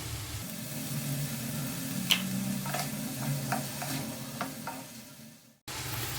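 Soy sauce hitting a hot fried-rice pan with chopped cabbage and capsicum gives a loud, continuous sizzle over a low hum, with several sharp scraping strokes of stirring and a brief dropout near the end.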